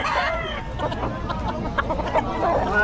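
Chickens and roosters at a farm in Bocaue, with a crowded mix of overlapping clucks and calls that run steadily throughout, fairly loud and near, over a low background rumble.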